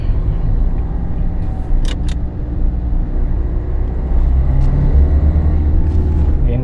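Car engine building revs as throttle is applied while driving in second gear, a loud low rumble that swells steadily toward the end, with a brief clicking sound partway through.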